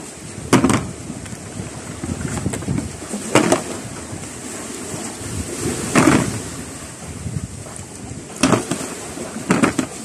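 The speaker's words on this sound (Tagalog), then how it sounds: "Lakas pa ng alon mga master." Heavy sea waves break and surge against the shore in several loud crashes over steady wind-blown surf roar, with gusty wind noise on the microphone throughout.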